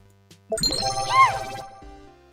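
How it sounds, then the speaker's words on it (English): A bright stream alert chime rings out with a short rising-falling jingle, clear and close, then fades into quiet hum. "I'll just keep sending test alerts."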